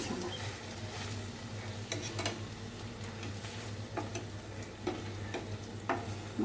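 Rohu fish frying in oil in a pan, a constant loud sizzle broken by a few sharp spatters and utensil ticks, with no voices.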